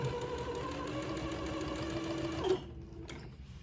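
Sewing machine running a straight stitch on a French seam in thin batiste, a steady fast mechanical whir with rapid rhythmic clatter, close and fairly quiet, stopping abruptly near the end.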